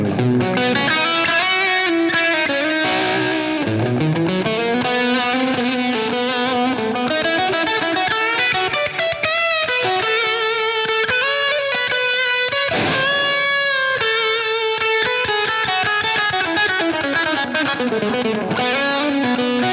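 Distorted electric guitar lead, fed through a modeled tape echo delay and plate reverb, weaving continuous fluid runs and sustained bends with trailing echoes, loud and unaccompanied throughout.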